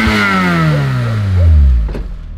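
A neglected Lotus Elise engine revs loudly nearby and then winds down, its pitch sliding steadily lower before settling to a rougher idle near the end.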